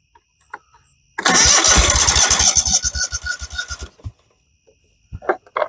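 A Kohler Command engine on a Dixon 5022 zero-turn mower, noted as smelling of gas and low on power, cranks with rapid rhythmic pulses for a few seconds, then stops, followed by a couple of faint clicks.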